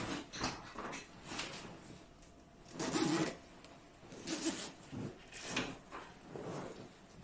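Zipper on a baby sleep sack being opened, several short rasping pulls at close range, soft and separated by brief pauses.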